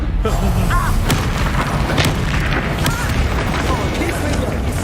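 Repeated explosive booms and blasts from the Confringo fire spell in Hogwarts Legacy, loud and dense, layered over a constant rumbling game backdrop, with brief voices in the mix.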